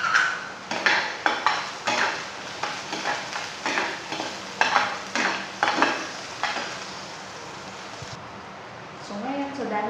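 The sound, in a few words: garlic and onion frying in hot oil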